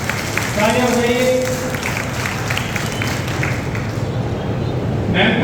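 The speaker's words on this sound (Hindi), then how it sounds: "जोरदार तालियां मैम के लिए भी जोरदार तालियां, दोनों हाथ ऊपर उठाकर तालियां बजाइए।" An audience at a stage event applauds with a steady, loud wash of clapping, while a voice is heard briefly over it at the start.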